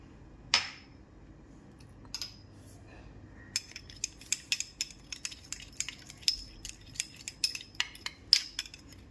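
Rava dhokla batter with baking soda and plain soda being stirred and mixed in a bowl, giving repeated clinking and scraping taps of a spoon at an uneven rhythm, close and fairly crisp, with no talking.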